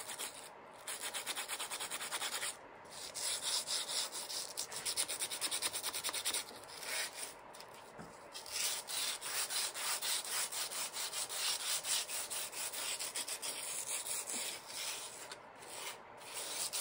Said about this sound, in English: So I'm sanding it all around. Sanding that edge on the 45's corner.